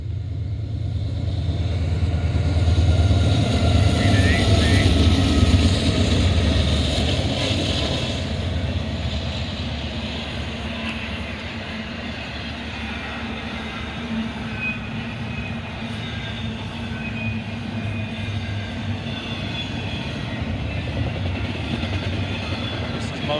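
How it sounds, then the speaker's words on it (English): A short, fast eastbound intermodal freight train passing at Oak Harbor, Ohio, a loud continuous roar and rumble of wheels on rail that holds steady throughout, with brief squeals of steel. "So it didn't want to slow down this short, fast intermodal."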